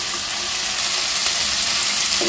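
Fried potato pieces hit a pan of cooked spice paste for potol chingri, setting off a loud, dense, continuous sizzle and crackle right up close, with no talking.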